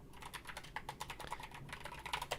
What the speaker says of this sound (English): I feel silent when I'm typing in my password